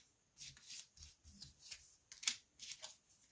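Two oracle cards being drawn from a deck, with quiet papery rubbing and sliding strokes in a few short bursts and a small crisp snap near the end.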